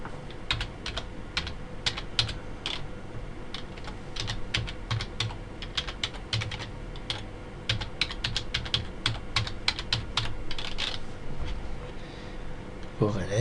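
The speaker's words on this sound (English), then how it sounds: "I'll type it in." Rapid, steady clicking of keys as a product key is typed on a computer keyboard during a Windows XP installation, a dense run of close keystrokes lasting several seconds with faint speech in the background.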